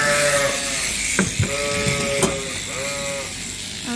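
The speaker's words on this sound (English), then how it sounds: "I want to tell you about the sheep in the front that's been standing as the lure all day" Suffolk ewes bleat during a shearing session, with several wavering, nasal calls overlapping at close range amid faint pen clatter and rattling.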